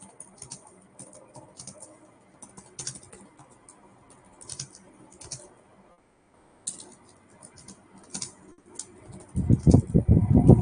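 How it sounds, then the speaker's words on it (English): Keys clack on a computer keyboard in irregular bursts with short pauses between them, close and moderately loud, ending in a louder, denser stretch of tapping. "let me just type that as well"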